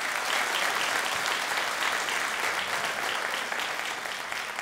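Dense, steady applause from an audience at a Christmas carol concert in Medias, continuous clapping filling the room for several seconds without any break.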